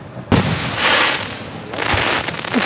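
Fourth of July fireworks at Gettysburg burst loudly nearby, a sharp boom followed by crackling and a long rumbling tail, then another booming burst, with no talk over them.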